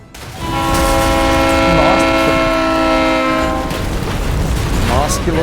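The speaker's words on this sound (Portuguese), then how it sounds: "Parece que o trem vai bater na gente, cara." A train rushing toward the player in the virtual-reality war game Medal of Honor VR: a loud, sustained horn blares over rumbling rail noise, then cuts off, leaving the train roaring past.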